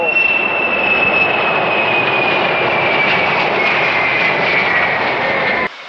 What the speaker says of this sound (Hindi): प्लेन लैंड हो रहा है